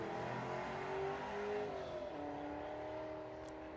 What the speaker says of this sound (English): we're moving into V8 territory now as Mustang unleashes